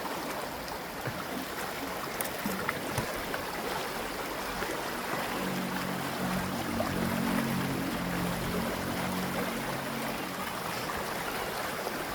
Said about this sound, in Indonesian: di sini kita akan membuang si ekoenzim ini ke sungai ya